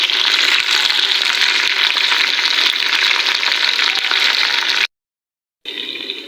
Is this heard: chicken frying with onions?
yes